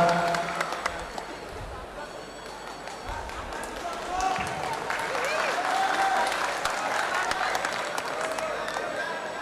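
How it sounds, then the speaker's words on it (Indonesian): Crowd at an Indonesian political rally for Jokowi applauds steadily, dense clapping mixed with cheering and a murmur of voices, loud and sustained throughout. "Tepuk untuk Pak Jokowi."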